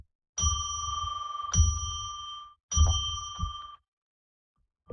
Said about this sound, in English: let's ring that bell that we usually do 3 times to declare sacred space